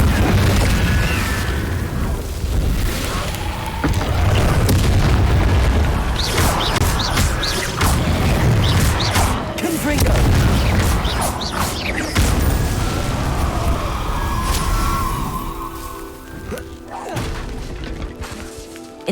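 Repeated booming blasts and crashing impacts from Confringo spells in Hogwarts Legacy, loud and dense over a rumbling game soundtrack, with thuds and clatter continuing throughout.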